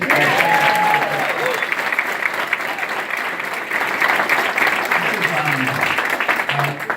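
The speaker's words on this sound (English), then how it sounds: "So how about a round of applause for the Young Democrats?" A crowd applauds the Young Democrats at a political rally, dense continuous clapping with some cheering and voices mixed in, lasting the full stretch at fairly loud level.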